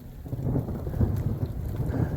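A thunderstorm with heavy rain rumbles low and steady, a dense wash of rainfall and deep thunder with wind buffeting the microphone, no voices.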